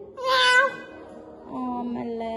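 A person's voice imitates a cat's meow, giving a high drawn-out mew followed by a lower, longer second call, close and clear.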